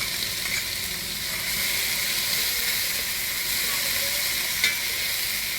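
Tomatoes sauté in a hot pan during crab curry preparation, giving a steady, close sizzle and frying hiss throughout with faint stirring and one brief spike near the end, no talking.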